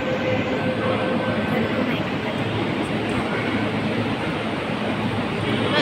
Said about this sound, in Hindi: वर्सोवा से ट्रेन छूट गई